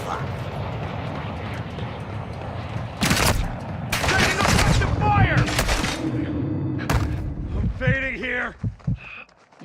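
Gunfire in the Call of Duty DMZ game, bursts of shots and booming impacts packed into the middle of the stretch, loud and close, with shouting voices among them.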